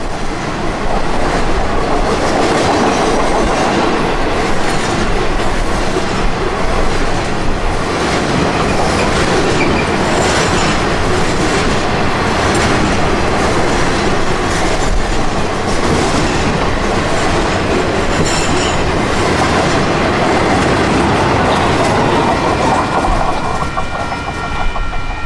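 A long Union Pacific rail train on the transcontinental line rolls past close and loud, wheels clacking rhythmically over rail joints with occasional metallic squeals, continuous for the whole stretch.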